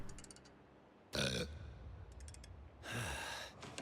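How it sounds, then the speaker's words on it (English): Two loud, drawn-out burps from a fizzy soda radio ad in the Two Point Hospital video game, each rising sharply out of a low background hum and separated by a short pause. "There's nothing like a burp."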